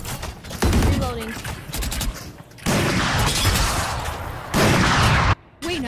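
Rapid gunfire bursts in a team shooter video game, loud and dense with a brief gap near the end, mixed with game effects and voices talking over the shots.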